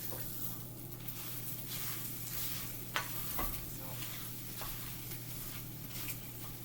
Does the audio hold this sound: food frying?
yes